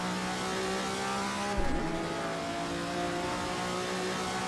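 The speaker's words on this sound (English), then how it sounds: "I love the noise of the overrun" A Ferrari race car in the Assetto Corsa video game, its engine droning on overrun with layered tones that dip and warble briefly midway before settling back into a steady, continuous hum, with no voices.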